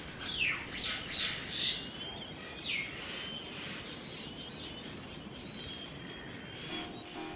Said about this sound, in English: if you listen, you can hear that the birds carry on during the night as if it was still the daytime